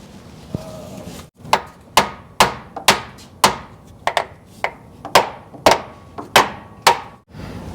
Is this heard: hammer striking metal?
yes